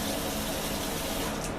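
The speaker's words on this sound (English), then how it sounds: "I'm going to fill this little tray full of water" Warm water running from a tap into a small tray, a steady continuous broadband splash and hiss close by, with no voices.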